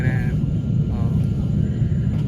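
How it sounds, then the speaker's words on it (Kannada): On a Bengaluru to Singapore flight, an airliner's engines build for takeoff. A loud, steady low rumble fills the cabin while a voice talks over it. "ಸೊ ಸೌಂಡ್ ಭಾಳ ಕೇಳಿಸ್ತಿರ್ಬೋದು ಫ್ಲೈಟು ಸ್ಟಾರ್ಟ್ ಆಗ್ತಿದೆ ಫ್ಲೈಟು ಟೇಕ್ ಆಫ್ ಆಗಿ"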